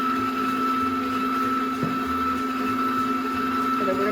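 Electric stand mixer creaming sugar and butter at medium speed, a steady motor whine with a constant hum running evenly and close throughout, with no voices.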